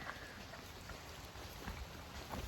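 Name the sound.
rain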